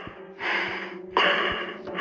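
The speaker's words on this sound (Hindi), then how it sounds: "पीयूष भागते भागते थक जाता है और रुककर हांफने लग जाता है।" In an audio drama, a man who has been running stops and pants for breath: two loud, close, rasping gasps in quick succession, with no talk.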